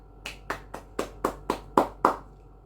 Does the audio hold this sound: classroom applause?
yes